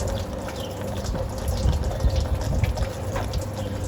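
Water gushes and splashes steadily from a Chevy small-block 350 V8 engine as the cooling system drains, a continuous close, loud liquid rush with no talk.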